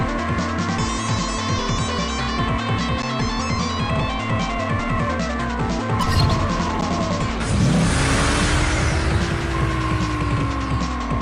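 A racing car engine in the Oxide Racing 3D video game, racing through night streets, revs loud and continuous with a steady whine, then its pitch sweeps upward near the end over a dense wash of game sound.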